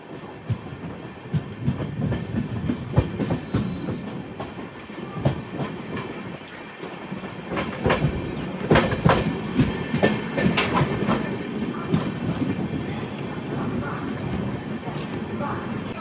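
Ratnachal Superfast Express with LHB coaches rolls along the Vijayawada to Visakhapatnam main line toward Eluru. Steady clickety-clack and rumble, heard from on board, run under frequent talking.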